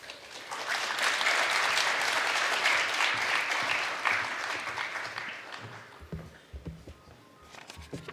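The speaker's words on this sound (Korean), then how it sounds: "우리 목사님 나오실 때 우리 할렐루야 우리 박수로 환영하겠습니다" A church congregation claps at a Christmas thanksgiving service to welcome the pastor, a dense, sustained round of applause that gradually fades into scattered footsteps and shuffling.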